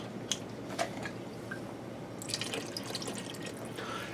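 A lidded jar holding about a quarter jar of water and taco chili ingredients is shaken, giving soft sloshing and dripping splashes with a few brief clinks, close by and fairly quiet, with no talk.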